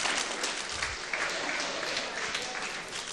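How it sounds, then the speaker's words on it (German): Small round of applause for the Counter-Strike 1.6 team Okrana at the EPS VII finals, a steady patter of clapping from a modest crowd filling the whole moment at even loudness. "kleiner Applaus für Okrana"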